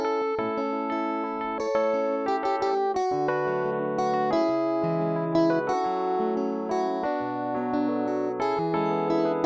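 Bright keyboard lead in a Ghanaian gospel highlife track, playing a lively melodic line of quick notes over chords, with no voices.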